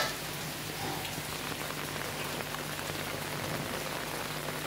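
Rain pours onto a rooftop terrace where two pet tortoises wander, a dense steady hiss of drops striking the surface, near and constant throughout, with no talking.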